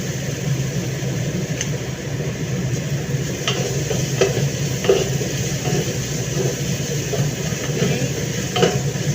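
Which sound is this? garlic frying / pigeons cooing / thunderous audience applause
garlic frying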